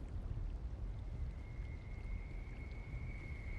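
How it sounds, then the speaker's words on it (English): Waterfall effect in Mass Effect Legendary Edition, a steady, broad rushing wash of falling water heard alone and fairly soft, with a faint thin tone running through the second half. "This is a waterfall looking thing."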